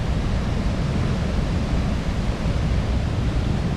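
Water thunders into a canal lock around a classic boat at night, a loud, steady broadband roar of churning flow with no break and no talking.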